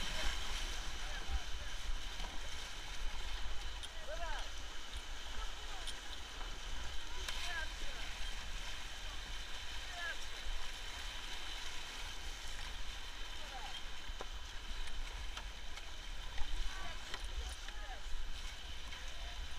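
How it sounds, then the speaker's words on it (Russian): River rapids and a waterfall on the Cheremosh during a grade 2 rafting run: a constant rushing roar of water with wind, steady throughout, and people's voices calling now and then. "Водопад!"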